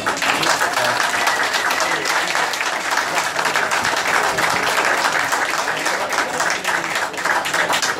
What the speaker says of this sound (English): could I just have a quick acknowledgement and round of applause for my wonderful staff who make this place happen.